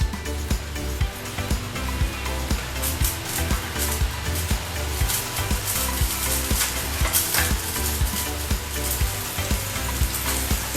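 Butter melting in a hot pan sizzles loudly and evenly from start to finish, a dense close crackle with small regular pops and stirring clicks, no talking over it.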